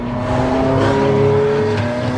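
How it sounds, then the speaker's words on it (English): A racing car engine drones steadily with a high, thin turbo whine layered over its tone, loud and close, holding a continuous pitch with a slight rise, no talking. "I can always hear the turbos whining."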